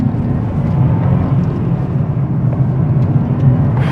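A 2025 Nissan Z Sport accelerates in second gear, a dense low engine roar that holds steady and loud without any talk.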